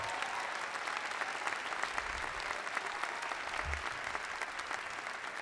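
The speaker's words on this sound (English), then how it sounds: "Give Eleanor a big round of applause." Sustained audience applause for a congresswoman during a mayor's State of the District address, a steady, dense wash of many hands clapping for several seconds, fairly distant and even in level with no voices over it.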